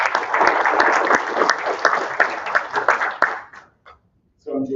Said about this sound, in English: give a nice round of applause for Jordan